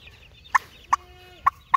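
A turkey hen penned with young turkey poults gives four short, sharp calls spaced about half a second apart over a quiet background.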